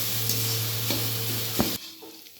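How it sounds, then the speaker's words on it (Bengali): Poha (flattened rice) being stirred with spices in a pan, a steady scraping and light sizzle with a few spoon knocks, cutting off abruptly near the end. "আমি এবার এই চিড়েগুলোর সাথে ভালো করে সবটা মিশিয়ে নেব।"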